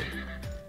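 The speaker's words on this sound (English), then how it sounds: "the horse says neigh, neigh" Horse neighing in a read-aloud animal-sounds book: one continuous whinny lasting under a second, fairly quiet, with no talk over it.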